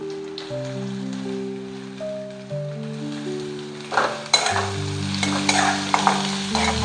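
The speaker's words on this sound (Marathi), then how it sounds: "आता ह्या भाज्या ज्या आहेत त्या मी थोड्याशा फ्राय करून घेणार आहे." Capsicum and cabbage fry in a pan for veg Manchurian, a soft steady sizzle with scraping stirs that grow louder and busier partway through, heard under sustained background music.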